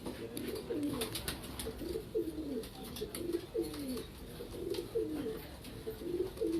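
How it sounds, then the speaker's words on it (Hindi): Red lace pigeons coo in repeated soft rolling phrases, a steady overlapping chorus close by with faint chirps above. "लाल जालदार कबूतर हैं जी"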